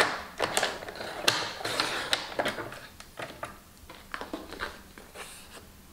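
Paper being cut with scissors, a run of irregular crisp snips and rustles spaced unevenly over several seconds, close and fairly quiet, with no talking.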